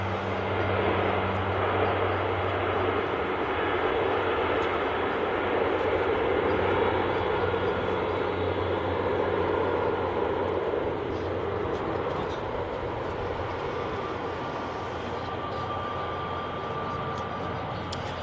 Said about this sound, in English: Which has made way now for the EasyJet about to leave.